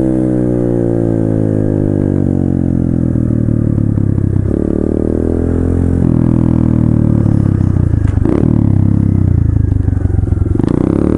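A Chinese pit bike engine runs loudly up close, a rough buzzing idle with revs rising and falling and some clattering mechanical noise throughout.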